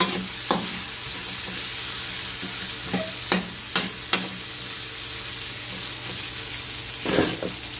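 Ginger and onion sauté in a pan as the base for a creamy coconut tilapia dish, giving a continuous sizzling hiss punctuated by a few sharp stirring scrapes and clinks, close and alone.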